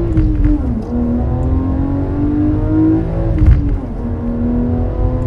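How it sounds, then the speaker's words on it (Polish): A 317 hp BMW M3 E36 engine revs up and down in rising and falling sweeps with a high, motorcycle-like whine, loud and close throughout. "ten samochód jest w dźwięku tak przypominający, silnik tak przypomina motocykl"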